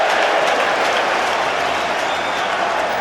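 A dense, loud roar of a football crowd cheering and applauding after a goal at West Ham vs Fulham, sustained and steady throughout with no pauses.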